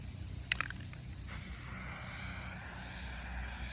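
Water-based paint is sprayed outdoors for stencil printing: a couple of brief spray bursts, then a steady, close, continuous hiss that runs unbroken to the end.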